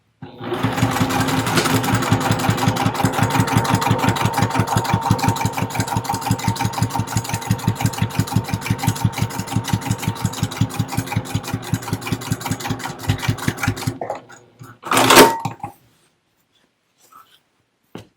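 A sewing machine stitches a seam on a fabric storage box with back stitching at the start and end, a loud, fast, even pulsing run that lasts about fourteen seconds, then a short final burst.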